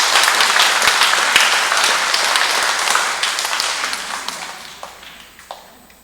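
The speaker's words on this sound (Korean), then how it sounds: "이분들을 위해서 큰 박수 좀 부탁드릴게요" Applause from the audience at a monthly church meeting starts dense and lively, then gradually thins out and fades into scattered claps.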